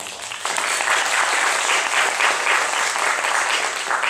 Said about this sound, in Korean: 다시 한번 감사 박수 드리겠습니다